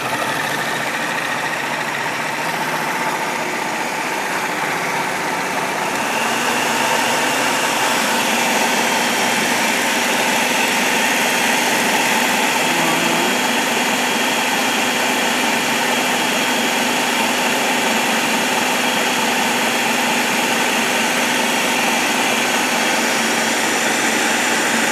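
A food processor chops roasted onion, garlic and pepper into romesco sauce, its motor a loud, steady whirring drone that runs unbroken throughout with no voices.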